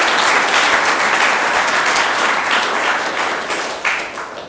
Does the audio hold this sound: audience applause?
yes